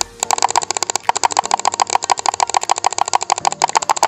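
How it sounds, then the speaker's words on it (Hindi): Budget Arctic Fox gaming mouse button clicked rapidly and continuously, a dense train of sharp, close, loud clicks with a faint rattling edge, steady rhythm over about four seconds. "जब आप इस माउस में बहुत ज्यादा रैपिड क्लिक्स करते हो ना तो इस माउस में कुछ अजीब सी आवाज आती है"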